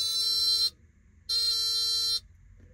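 Original Nissan door warning buzzer sounding with doors open and lights on: two steady, shrill electronic buzz tones, each under a second long, separated by a short gap, loud and close with no talk.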